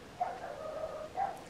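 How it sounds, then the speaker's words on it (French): A dog gives two short barks, the second coming about a second after the first, faint against a soft background hum. "Ici, ce chien aboie."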